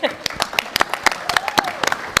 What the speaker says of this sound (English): Little clap for Michelle, please.